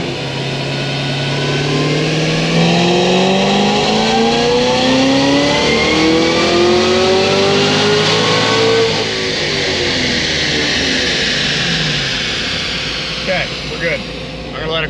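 A Stage 4 Cadillac CTS-V running a blend of about 53% ethanol revs hard, its engine note sweeping upward and then falling back before a second, shorter rise. The sound is loud and close, and a voice briefly speaks over it.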